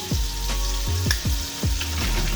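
Chicken fries in butter and olive oil for a Creole chicken Florentine, giving a steady close sizzle with crackling pops throughout.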